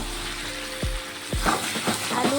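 Potatoes and pieces of duck meat fry together in oil in a pan for a spicy kosha curry, a steady close sizzle broken by a few scraping stirs of the spoon against the pan.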